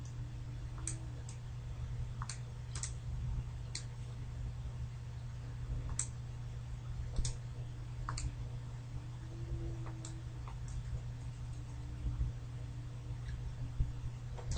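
Calculator keypad buttons pressed one at a time, producing light, sharp clicks in an uneven rhythm over a steady low hum; the taps are close but quiet.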